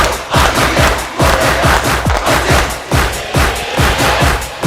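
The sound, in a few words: group clapping hands again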